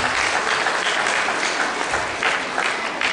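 Audience applause at a religious brotherhood gathering, steady dense clapping from a crowd throughout, loud and continuous with no voices over it.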